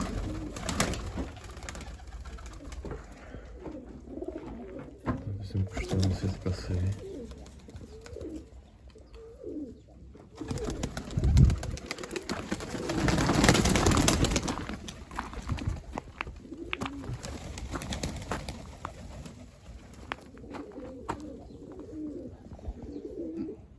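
Baku and Iranian pigeons cooing softly outdoors, with faint rustling and a louder burst of noise midway, no talking.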